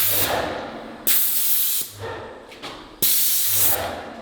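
Graco compact airless sprayer spraying white paint onto doors at about 1000 PSI, heard as three loud hissing bursts with sharp onsets, each trailing off before the trigger is pulled again, with no talking.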